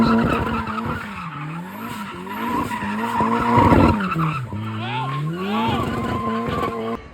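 A 1990 Mazda Miata drives hard with its engine note rising and falling while tires skid and squeal in repeated sweeps, loud and close throughout.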